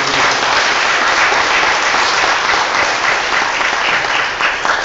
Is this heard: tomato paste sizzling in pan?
no